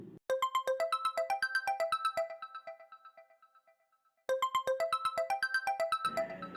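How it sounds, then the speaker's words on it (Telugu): A bright, melodic phone ringtone plays in repeating bursts, fading briefly before starting again, with no talking over it. "ఏంటి బంగారం ఇప్పుడు ఫోన్ చేస్తుంది"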